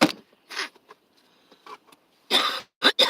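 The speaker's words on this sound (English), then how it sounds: "I need to blow my nose." A person blows their nose inside a car: two short, close bursts of breathy, rasping noise near the end, after a few softer sniffs and rustles.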